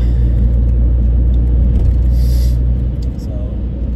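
A 2008 Mini Hatch One with a 1.4-litre engine drives along with a loud, steady low rumble of engine and road noise, heard from inside the car.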